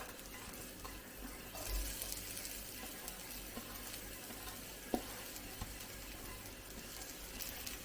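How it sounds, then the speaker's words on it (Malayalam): Sliced onion and garlic frying in hot oil in a pan, a steady, dense sizzle close by and fairly quiet, with an occasional light knock; no one speaks. "ഇപ്പം അതിൻ്റെ സവാളയും വെളുത്തുള്ളി കിടന്നൊന്ന് ബ്രൗൺ കളറായി വരുന്നുണ്ട്"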